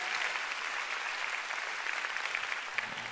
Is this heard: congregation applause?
yes